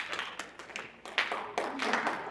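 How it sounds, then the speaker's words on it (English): An audience gives a slow, polite clap, a handful of unhurried, soft, uneven claps close by, with no talking. "thank you for thinking of me type of clap"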